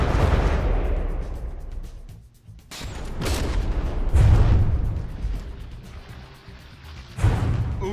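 Turret cannons trade fire and shells strike armor in the naval combat game From the Depths, a dense, continuous barrage of heavy booms and rumbling impacts with several louder hits standing out, loud and close throughout.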